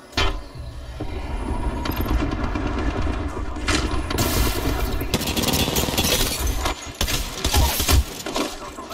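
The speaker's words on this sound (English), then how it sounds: "Getting shot at." Dense video game gunfire while under attack: loud, continuous rattling bursts with sharp cracks layered over one another, getting busier toward the end.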